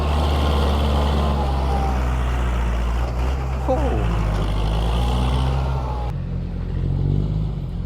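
Heavy truck rumbling past at dusk on a dirt-work site, a loud steady low engine drone close by that shifts in pitch as it goes, with a voice talking over it.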